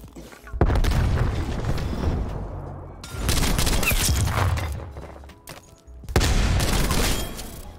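Sniper rifle shots ring out in a shooter video game, three loud booming blasts at roughly three-second intervals, each trailing into a long decaying rumble, with players' voices chattering between them.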